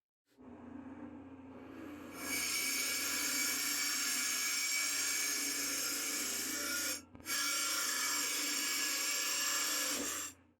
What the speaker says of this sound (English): Let's head over to the drill press.